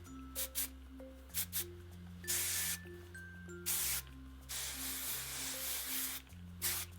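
Hairspray is aimed at hair in several quick bursts. The loud hissing sprays vary in length, with short pauses between them, over a faint background tone.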